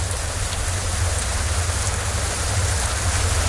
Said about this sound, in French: T'entends la pluie, c'est génial.